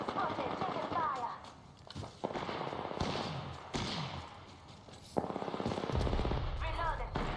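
Gunfire in a video game crackles in rapid automatic bursts mixed with sharper single shots, loud and close, while a voice talks over the action.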